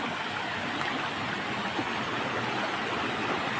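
Clear stream water flows below a waterfall with a steady, even rushing hiss, close and continuous, with no voices over it.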